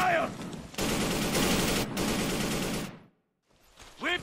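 Sustained heavy gunfire bursts in the video game Inversion, loud and dense for about two seconds, broken by a brief gap, then a sudden silence before a voice speaks.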